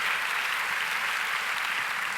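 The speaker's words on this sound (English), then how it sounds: "Now you can applaud." Dense, steady audience applause fills a lecture hall, a continuous wash of many hands clapping with no talking over it.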